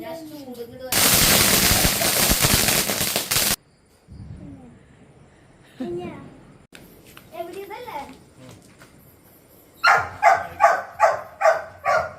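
A loud burst of crackling firecracker explosions at a Vishu festival celebration, then quieter gaps with children's voices and a dog barking, ending in a rapid series of sharp pops.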